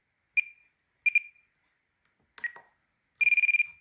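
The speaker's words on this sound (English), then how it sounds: "I also have just a tone when I hit the reset button" Electronic beeps from a radio transmitter: three short single tones spaced apart, then a rapid burst of about eight quick beeps, clear and close in silence; a tone sounds at the reset button.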